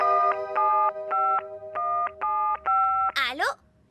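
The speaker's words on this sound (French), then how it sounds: "C'est un de ces fameux téléphones que les humains utilisent tout le temps." Cartoon telephone keypad dialing: six evenly spaced, loud two-tone beeps, ending in a rising warbling electronic chirp, with a faint low background under the tones.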